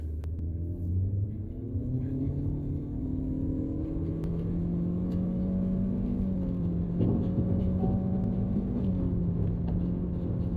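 An MG Astor with automatic CVT accelerating hard from a standstill, a steady loud engine drone and rumble held at high rpm with rising tonal whine, continuous for about ten seconds without talk.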